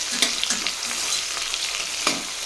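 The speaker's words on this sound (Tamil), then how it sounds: "இப்போது இந்த வெங்காயத்தை கோல்டன் கலர் வர வரைய நல்லா ஃப்ரை பண்ணி விட்டுக்கலாம்" Onions fry in a pan for veg biryani with a loud, continuous sizzle close by, broken by occasional stirring scrapes; no talking.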